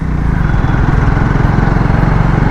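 Triumph Speed T4 motorcycle engine pulling in sixth gear at around 40-50 km/h, a steady loud low-pitched drone with a fast even pulsing throb, continuous throughout with wind noise and no talk.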